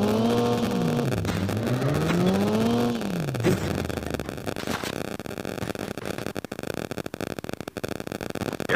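Enemy vehicle engine in a Call of Duty match, a steady motor drone with a rising and falling rev sweep early on, then continuing as a loud rough rumble amid game noise and sharp clicks.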